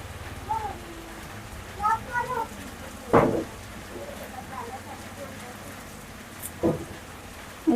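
Rain falls steadily through a stormy spell, a continuous hiss with scattered louder thumps and clatters from drops or doors, and a voice talking intermittently over it.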